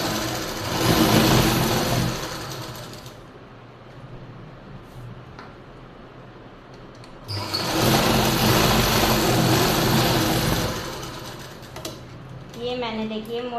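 A sewing machine stitching trouser fabric, running in two loud continuous bursts separated by a quieter pause, with a voice speaking near the end.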